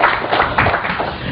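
Audience clapping at a business talk, a short dense burst of applause from a crowd, steady and fairly close, filling the whole moment.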